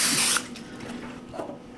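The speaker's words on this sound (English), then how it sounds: "Just spraying that pan, getting it coated really well so nothing sticks." A short hiss of aerosol cooking spray coating a baking pan bursts for a moment, then stops, leaving quiet room noise behind.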